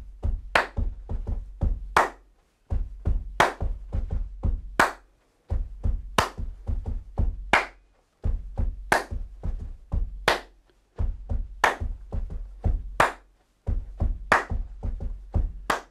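Body percussion clapping and slapping a repeating rap rhythm, short bursts of crisp claps over low thumps, phrased in regular groups with brief gaps between, close and alone.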